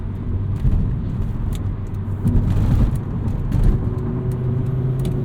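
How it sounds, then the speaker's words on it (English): A 1997 Volvo 850 R with a 5-speed gearbox drives along with a constant engine and road rumble, while small rattles and dashboard clunks tick through it as scattered short knocks. "Still lots of rattles and dashboard clunks. That's just how these 850Rs are."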